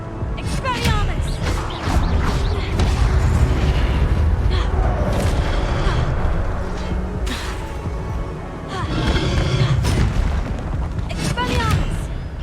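Spellcasting in Hogwarts Legacy: repeated Expelliarmus bursts land as sharp magical booms and crackling blasts in quick succession, loud and close, mixed with game effects and occasional talk.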